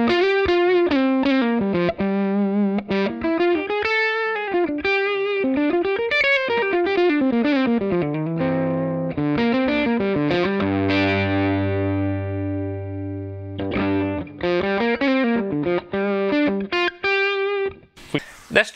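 Electric guitar played through a Two Rock TS1 amp, a fuzzy, distorted, somewhat farty tone with sustained notes and bends, loud and up front; a single-note line ends in a held chord.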